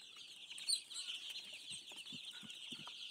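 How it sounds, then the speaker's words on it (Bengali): Chickens and chicks running about as they feed make faint, scattered clucks and soft calls over a steady high hiss, close but quiet. "আমার মুরগিগুলো কীভাবে দৌড়াদৌড়ি করে খাবার খাচ্ছে"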